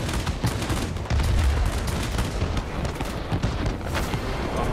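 Anti-aircraft fire in the World of Warplanes game: a dense, continuous barrage of rapid gunfire and dull booms layered into a loud, unbroken wash of combat noise, with no speech.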